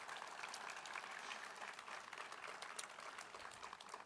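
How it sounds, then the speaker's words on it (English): Audience applause for a senator at a governor's transportation and infrastructure announcement: faint, distant, steady clapping from a crowd that holds for about four seconds. "Let's have a round of applause for her."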